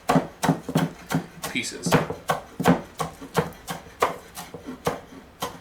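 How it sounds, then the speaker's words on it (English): Knife chopping folded oregano herbs on a board in quick, steady rhythmic strokes, close and clear, with a person talking over part of it. "I'm going to fold these, and then I'm just going to chop these up into nice"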